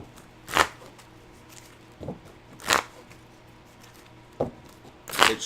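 A deck of Pokémon trading cards being shuffled: short riffling bursts that come back about every two seconds, crisp and close, with quieter snaps and taps between them and no voices.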